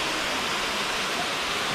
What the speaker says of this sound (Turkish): Bu şelalelerinden biri aşağıda nefis bir gölet oluşmuş.